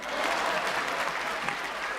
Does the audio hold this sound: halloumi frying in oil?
no